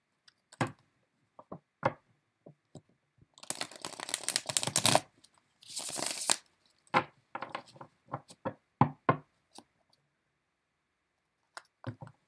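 Playing cards are shuffled in quiet bursts, with soft riffling sweeps and scattered light taps and clicks in between.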